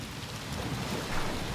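Steady rain falls in a dense, even patter during an expedition across Argentina, Paraguay and Chile, a continuous hiss of drops on surfaces close by with no voices.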